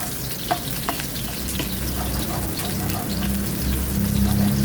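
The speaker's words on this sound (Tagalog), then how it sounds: "Sa mainit na kawali, maglagay lang tayo ng konting mantika. At igisa lang natin yung ating sibuyas." Onions sautéing in a little oil in a hot pan make a loud, continuous crackling sizzle close by, with a couple of small pops early on and no speech.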